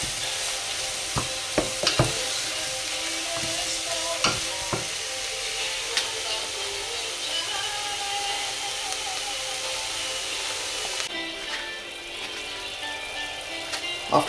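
Mushrooms and onions fry in a pan for a paleo frittata. A steady sizzle runs throughout, broken by a few sharp clicks and scrapes from stirring, with no voices.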